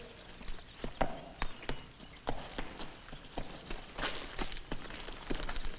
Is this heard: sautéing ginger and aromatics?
no